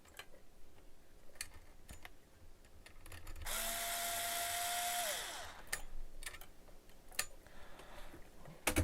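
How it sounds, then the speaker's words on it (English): A power screwdriver backs screws out of an Alpine MRV-1507 car amplifier, a brief whirring burst of about two seconds amid faint ticking and handling clicks, quiet and close. "Remove these 2 screws."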